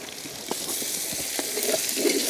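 Homemade ginger garlic paste frying in a pan, a steady close sizzle with soft crackles and occasional stirring scrapes, continuous throughout.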